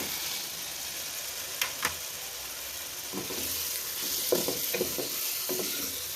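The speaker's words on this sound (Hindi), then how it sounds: "अब हम इसमें चिकन डाल देंगे।" Sizzling and stirring in a pan as chicken pieces go into a well-fried spice masala for stuffed bitter gourds, with a steady hiss broken by a few clinks and scraping stirs, close and fairly quiet.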